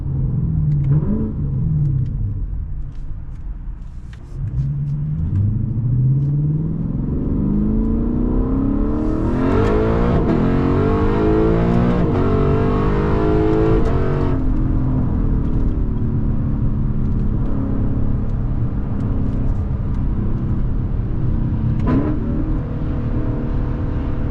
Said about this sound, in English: Accelerations.